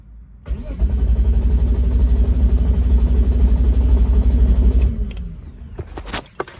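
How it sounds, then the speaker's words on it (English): A BMW E36 engine with a new Link ECU tune and the fuel pump fuse pulled cranks steadily for about four seconds without firing, a loud rhythmic starter chug, followed by faint clicks and rattles. "So it cranks with the new tune."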